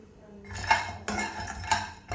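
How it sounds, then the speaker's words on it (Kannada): Almonds and pumpkin seeds frying together in a pan, heard mostly as close metallic clinks and scrapes of a utensil against the pan, coming in a few spaced strokes. "ಇದು ಪಂಪ್ಕಿನ್ ಸೀಡ್ ಕೂಡ ಹಾಕ್ಕೊಳ್ತಾ ಇದ್ದೀನಿ. ಅದ್ರ ಜೊತೆ 2 ನಿಮಿಷ ಫ್ರೈ ಮಾಡ್ಕೊಳ್ಳೋಣ."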